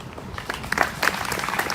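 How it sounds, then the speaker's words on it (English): Brief scattered clapping from a small group at a charity walk event, uneven and sparse, lasting under two seconds. "Please give them a round of applause."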